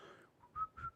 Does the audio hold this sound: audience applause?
no